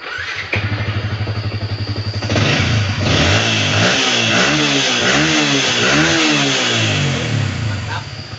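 A Yamaha Vixion motorcycle engine starts after reassembly, catching with a rapid putter, then revving up and down in several rising and falling bursts before settling into a steady loud idle, close by.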